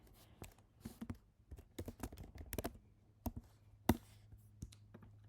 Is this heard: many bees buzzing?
no